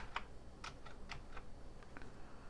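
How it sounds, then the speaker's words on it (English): Keys clack unevenly on the old, somewhat sticky keyboard of a nearly 40-year-old breadbin Commodore 64, a few faint scattered strokes over a steady low hum. "Does the keyboard work?"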